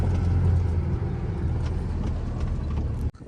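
A truck rolls across a harvest field, its low engine rumble and rattling body loud and steady up close, ending in an abrupt cut.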